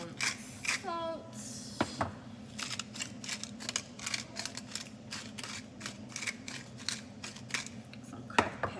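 Pepper grinder cracking black pepper over a pot of chicken and mushroom risotto: a steady run of short, crisp clicks and grinding ticks, close and moderately loud, over a low kitchen hum with a brief clatter near the start.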